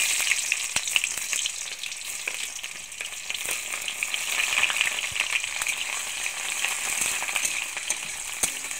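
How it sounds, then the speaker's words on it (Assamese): Onions frying in mustard oil in a wok, a steady close sizzle with crackling pops and occasional sharp ticks from stirring, no talking. "এতিয়া মই কেৰাহীটো গৰম দিছো আৰু ইয়াতে মই মিঠাতেল দিছো এতিয়া মই পিয়াজখিনি"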